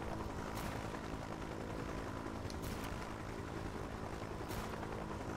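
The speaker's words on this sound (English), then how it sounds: "Might need a big helicopter for this." A steady helicopter drone with rotor chop and engine noise from the video game Just Cause 3 continues throughout at an even level, with a few brief higher hisses.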